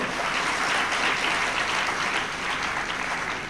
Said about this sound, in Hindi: और ताली बजाना तो बजाओ